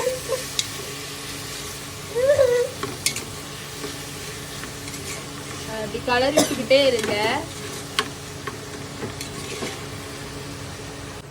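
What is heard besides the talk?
onions frying and being stirred in a pan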